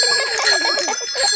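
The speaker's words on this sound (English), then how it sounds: "Ringing your bell lets others know you are there." Bicycle bells in a Peppa Pig cartoon ring in a bright, rapid chorus of overlapping tings, loud and continuous for about a second and a half.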